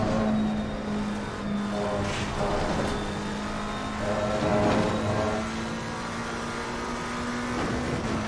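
Race cars in Automobilista 2 on a busy 30-car server, engines droning and revving with repeated surges as cars pass close by, a steady engine tone underneath throughout.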